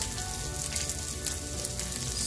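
Garlic and boiled potato chunks frying in a pan, a steady close sizzle and crackle running evenly throughout with no talk.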